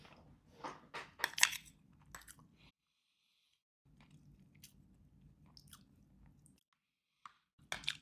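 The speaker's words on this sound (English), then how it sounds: "Let's just give it a bite plain, try it that way." Flaky tuna seasoned with lemon and pepper, from a military ration, is bitten and chewed close to the mic: moist crunchy chomps in quick bursts, a quiet pause, then softer steady chewing and a final pair of bites.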